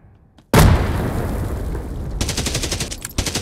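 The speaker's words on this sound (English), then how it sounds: "Throwing frag!" A frag grenade blasts in the Hired Ops shooter game: after brief quiet, one loud sudden explosion booms and rumbles away, followed by a rapid run of gunfire bursts.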